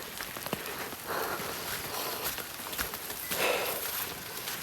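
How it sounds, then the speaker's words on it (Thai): Rain falling outdoors on surfaces, a steady dense hiss of drops with occasional heavier patters and swells, fairly close and moderately loud, with no voices. "โอ้โหฝนตกเลยพี่น้องเอ้ย"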